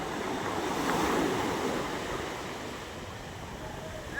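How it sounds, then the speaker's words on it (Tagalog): Big sea waves wash onto the shore at a fish terminal in Tanza, Cavite, a continuous rushing surf with wind buffeting the microphone, swelling slightly then easing off. "Lalaki ng alon."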